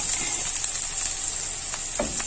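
Spaghetti sauce is stirred gently in a non-stick pan, giving a steady, close sizzle with soft scraping strokes of the spoon near the end.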